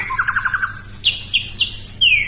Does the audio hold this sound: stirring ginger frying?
no